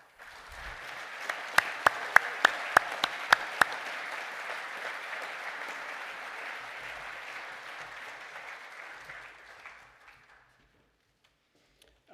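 Graduating Master of Science in Conservation Behaviour students receive a long, steady round of applause from a ceremony audience, with a few sharp louder claps near the start, before it fades out to silence.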